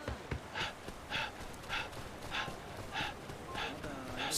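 A dog barks in the Yakuza Ishin video game, a steady run of sharp barks coming about every half second over busy game sound, with a voice talking now and then.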